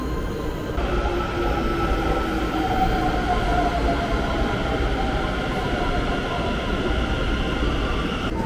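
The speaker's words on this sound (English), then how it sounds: "That was our previous train." A train passes through a station with a steady, loud rumble and a faint tonal whine that holds evenly throughout, with no clear speech.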